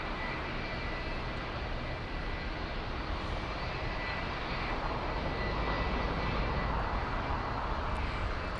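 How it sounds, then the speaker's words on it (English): LATAM Boeing 767 jet airliner at Los Angeles International Airport, a steady broad engine roar from a distance that holds at even loudness throughout, with no one talking. "The LATAM 767 heading to Lima,"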